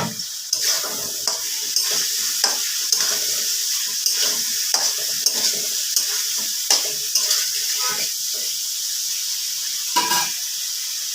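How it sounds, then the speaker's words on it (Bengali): Fried potatoes are stirred into sizzling masala in a pan for a shol fish kalia: a constant hiss of frying with repeated spoon scrapes and stirring clicks close up. "এবার আমি ভেজে রাখা আলুটা দিয়ে দিলাম।"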